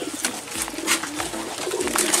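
Pigeons in a seller's coop in Jatilawang, Indonesia, coo repeatedly close by, soft throaty calls over a busy background with no talk.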